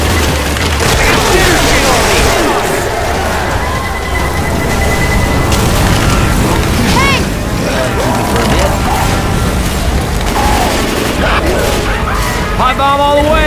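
Pipe bomb and grenade blasts in the zombie shooter Left 4 Dead 2, a dense, loud wash of booms and gunfire with clattering mechanisms throughout, overlapped by shouting players.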